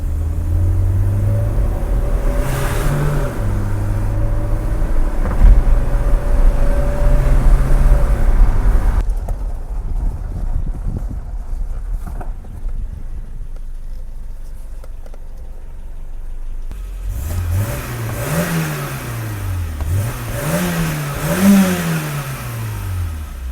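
A BMW E30 accelerates hard through several gears, the engine note rising and dropping sharply with each shift, then easing off to a quieter rumble before revving up again in repeated climbs.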